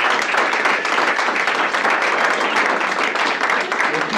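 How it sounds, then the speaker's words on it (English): Audience at a company stakeholder meeting applauds the top profit share members, a steady, dense round of clapping that fills the room at close range for the whole stretch, with some voices mixed in. "let's give a round of applause to the top profit share members"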